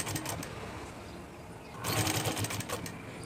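A sewing machine stitches a neckline in steady continuous running, growing a little louder partway through and staying close throughout.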